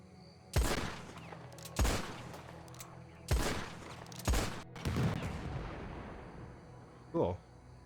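Gunshots fired at an oil tanker in a Red Dead roleplay game, five heavy booming shots spaced about a second apart with reverberant tails, followed by a fainter thud.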